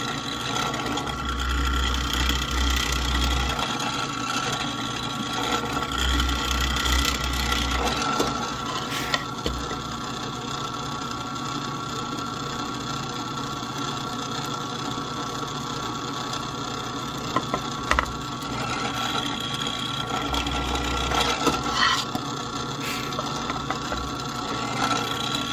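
A scroll saw hums steadily while cutting wooden wheels for a toy steam train, with a continuous motor drone and intermittent low thumps and clicks from the blade working through the wood.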